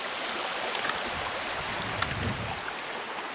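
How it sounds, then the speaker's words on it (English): A waterfall and a stream pour steadily behind a cut stone cast iron furnace in Pennsylvania on a November day, a continuous broadband rushing wash that stays even and close throughout, with no voices. "here we are in the back side of the waterfalls"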